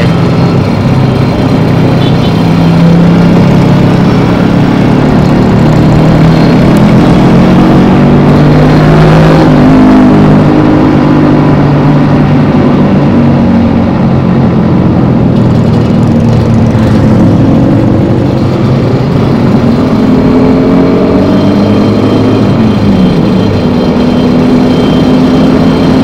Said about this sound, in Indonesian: kita pakai knalpot standar ya Rika ya.